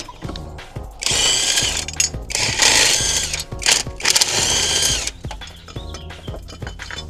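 Power tool whirring in several bursts while 14mm bolts come out of a transmission bracket on an 88–91 EF Honda Civic, with ratcheting clicks and short pauses between runs, close and loud.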